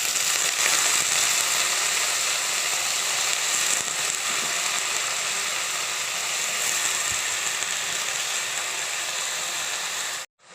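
Chopped banana flower goes into a pan of sautéing onions, giving a steady, loud, continuous sizzle that holds evenly throughout and cuts off sharply at the end.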